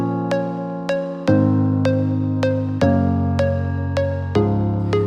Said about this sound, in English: Gray Area. It sounds like this without any processing. It's a pluck.